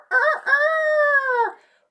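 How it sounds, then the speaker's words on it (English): A rooster crows once in a long, drawn-out call about one and a half seconds long, close and loud, alone with no talking. The bird belongs to a group of four hens. "Rooster."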